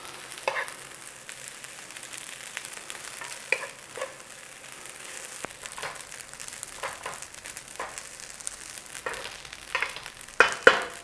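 Fried rice with dark soy sauce is stir-fried in a pan over a continuous crackling sizzle, with irregular scraping and tossing clicks from the utensil and a few louder clatters near the end.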